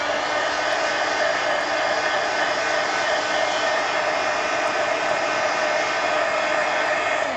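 A hair dryer blows steadily and loudly up close, a constant even whoosh drying a page of a mini magazine art journal, with no talking.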